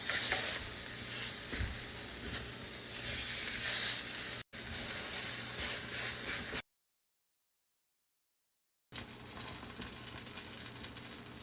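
Eggplant slices fry in a pan with a steady soft sizzle, broken by stirring and scraping as they are flipped, with a short silent gap partway through.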